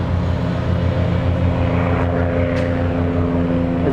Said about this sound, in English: So as a biplane flies over